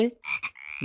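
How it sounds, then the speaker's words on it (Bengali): Frog croaks from a Bengali alphabet lesson, a few short rasping calls in quick succession, close and fairly loud with no talking. "ব্যাং"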